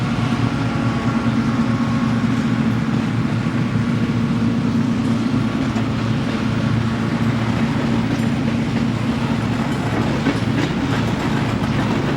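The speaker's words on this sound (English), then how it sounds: "The locomotives of this westbound freight are decorated in 6 different paint schemes." A westbound freight train with multiple locomotives rolls past at close range, a steady loud rumble of engines and wheels with clattering rail joints that holds constant throughout, no voices.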